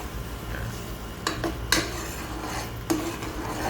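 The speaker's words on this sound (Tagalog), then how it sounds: "Haluin muna natin ng konti." Stirring a simmering ginataang tuna, a tuna stew in coconut milk, in a pot, with a few sharp utensil scrapes and clinks over a steady low bubbling background.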